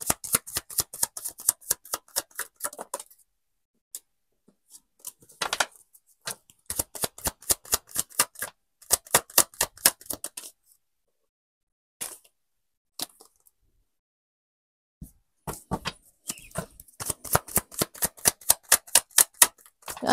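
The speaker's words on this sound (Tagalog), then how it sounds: "Nakakatulog siya sa pag-shuffle ko ng baraha." Tarot cards are shuffled close up in quick bursts of crisp riffling flutters, each run of rapid snaps separated by short silent pauses.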